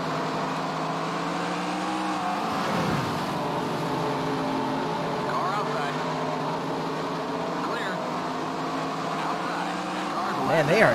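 Race cars in the NASCAR Racing 2003 video game, modified cars at Beech Ridge Motor Speedway, drone continuously with overlapping engine tones shifting as cars pass, under speech.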